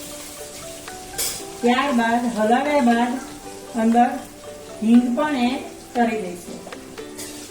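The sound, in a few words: onion and capsicum sizzling in oil and ghee while stirred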